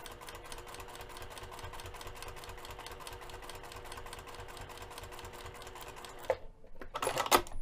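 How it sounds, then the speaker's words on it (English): A Juki sewing machine runs steadily while top stitching a seam along fabric, its rapid needle clatter holding an even rhythm for several seconds before stopping, followed by a couple of brief handling sounds. "as you can see, a perfect row of top stitching"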